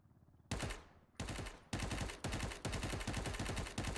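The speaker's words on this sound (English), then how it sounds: "Yeah, they're shooting from up top." Rapid automatic gunfire in a video game firefight, loud bursts of machine-gun fire starting after a half-second and recurring in about five sustained volleys with brief gaps, close and dense, with no talk.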